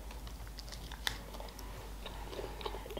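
Someone bites and chews a tartlet close to the microphone, with soft crunchy bites and wet chewing clicks scattered quietly over a few seconds.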